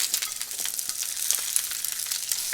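Cabbage and garlic fry in a hot, smoking pan, a bright continuous sizzle with crackling pops and occasional stirring scrapes, close and fairly loud.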